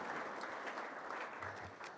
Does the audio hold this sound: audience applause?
yes